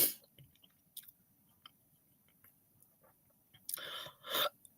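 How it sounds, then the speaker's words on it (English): Food being chewed right at the microphone: soft wet clicks and smacks scattered through a quiet stretch, then two louder, crunchier chewing bursts near the end, intimate and close with no talking. "I'm sorry if you guys can heard me chewing"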